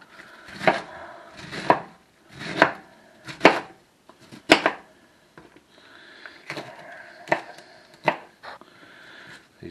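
Vegetables for a spicy crockpot cabbage soup are chopped on a board in loud, close bursts of several quick knife strokes, separated by short pauses, with no talking.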